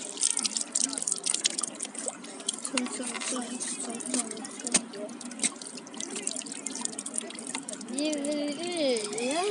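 Water runs and drips from a tap while something is washed, a close, uneven trickle with splashes, and a voice with a sliding, wavering tone near the end.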